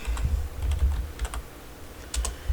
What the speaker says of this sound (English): I'm going to type in bullet.